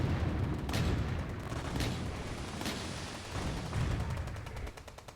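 5-inch anti-aircraft guns fire in the Ultimate Admiral: Dreadnoughts naval game, a series of loud, booming shots spaced about a second apart over a continuous rumbling battle din.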